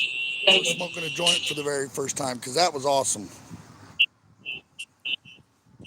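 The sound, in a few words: fire alarm going off in apartment building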